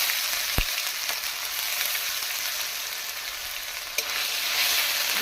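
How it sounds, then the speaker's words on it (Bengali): Green chillies and ginger fry steadily in a pan for a pulao of Gobindobhog rice with potato and pointed gourd, a dense close sizzle with a sharp knock early on and another clink near the end, no voices. "লাল লাল ভেজে নেব"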